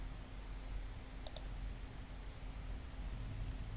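A pair of sharp, closely spaced computer mouse clicks during Excel work, near and clear against a low steady background hiss, with nobody talking.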